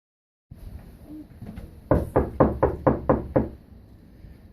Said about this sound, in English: nervously knocked on the famous counselor's door